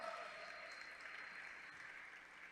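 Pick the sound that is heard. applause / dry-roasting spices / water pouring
applause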